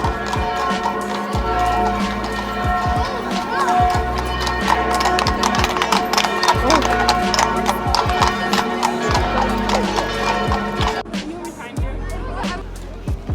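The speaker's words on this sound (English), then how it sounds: "And a horse and buggy!" Horse and buggy clip-clopping along a city street, steady hoof beats close by under a busy crowd babble and talk, with a brief horse whinny.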